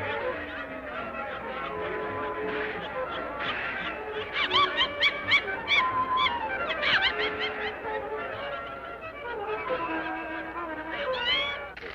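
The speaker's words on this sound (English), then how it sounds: "watch my cat." A cat meows repeatedly in a series of short, fairly close calls, heard amid quiet background sound in a 1950 film scene.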